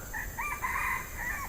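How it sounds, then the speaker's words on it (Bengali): A rooster crows repeatedly amid chicken calls in a botanical garden in Kuala Lumpur where jungle fowl roam, the drawn-out crows fairly close and loud over steady outdoor background noise. "এদিকে আসলে পাখির ডাক আর মুরগির ডাক শুনতে পাবেন"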